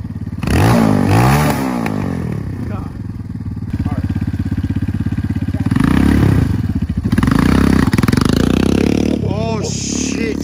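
Two newly bought motorcycles idle and rev nearby, one with a rough, quad-like tone, the engine rising and falling in repeated bursts while people talk over it.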